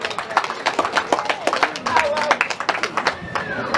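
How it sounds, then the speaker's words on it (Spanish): A crowd at a 50th birthday celebration claps steadily and briskly, with a voice talking over the applause. "Fuerte las palmas para ella."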